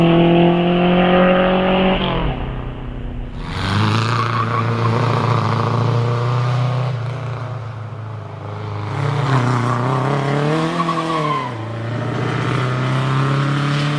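A vintage Riley 12/4 Special races up a hill climb, its engine loud and close as it revs through several gear changes and rises and falls in pitch as it climbs away.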